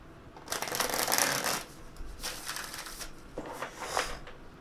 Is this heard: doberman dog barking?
no